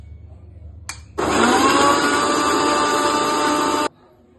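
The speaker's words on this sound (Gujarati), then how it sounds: "ત્યારબાદ બધી સામગ્રી એકત્ર કરી તેને મિક્સરમાં ક્રશ કરો" A kitchen mixer grinder crushing bottle gourd with water and other juice ingredients: a brief click, then a loud, steady whirring grind for under three seconds that cuts off abruptly.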